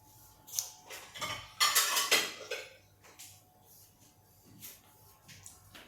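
Fried vadis lifted out of the pan onto a plate, with close metallic clinks and scrapes of a utensil against steel in a few quick bursts, then softer taps and rustles, no talk.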